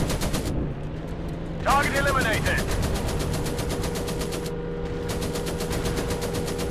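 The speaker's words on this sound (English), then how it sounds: "The rear gun is shooting at him." A rear gunner's machine gun firing in a WWI warplane video game, a rapid, steady stream of shots that runs almost without a break over droning engine noise, with a brief pause and a short spoken word.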